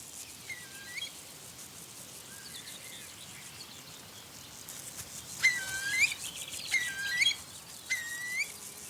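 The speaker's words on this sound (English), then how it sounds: "These may be the last shots of young curlews in this region." Young curlews call in a Upper Rhine Valley marsh, giving several thin, rising whistled notes in short bursts over a steady insect-like hiss. The calls are moderately close and come in the second half.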